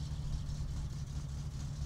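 Carburetted car engine in My Summer Car idles at a steady low rumble, even and continuous, close and unaccompanied by any talk.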